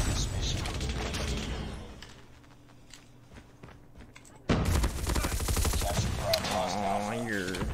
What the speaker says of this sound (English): let's bring out my portable SMG here